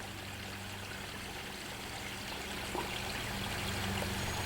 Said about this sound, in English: There's a little creek that's running through here. You probably hear the water running.